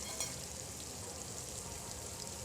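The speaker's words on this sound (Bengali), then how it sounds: "পেঁয়াজটা নাড়তে থাকবো, একটু নাড়িয়ে দিলাম যাতে ভাজা ভাজা হয়ে যায় তাড়াতাড়ি।" Onions frying in oil in a pan give off a steady, fairly quiet sizzling hiss throughout, with little else heard.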